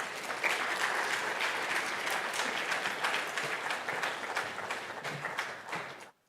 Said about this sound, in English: Please make the applause louder for Ms. Elsie Atefua